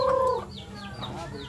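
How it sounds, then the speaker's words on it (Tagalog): A chicken clucks briefly and faintly at a farmyard home in Nueva Ecija, giving a short throaty call before quiet background noise. "Manok."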